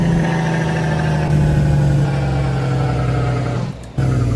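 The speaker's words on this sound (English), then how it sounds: "So here's a Jake brake." A Kenworth W900 road train with a 13-speed transmission in American Truck Simulator, its engine droning steadily with a low rumbling Jake brake growl that shifts pitch, briefly dips near the end, then resumes loudly.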